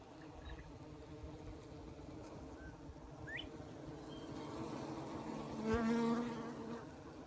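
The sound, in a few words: honeybees buzzing in garden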